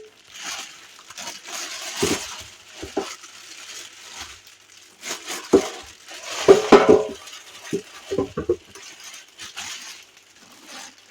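A metal insert for a countertop electric roaster is lifted and handled, giving irregular clanks, scrapes and light metallic rattles, with a cluster of sharper knocks in the middle, close and fairly loud in a quiet kitchen.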